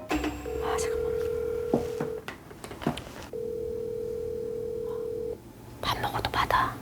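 A phone call being placed to a friend, with a steady dial tone and ringback tones sounding twice in long stretches, broken by short touch-tone beeps and soft voices murmuring between the rings.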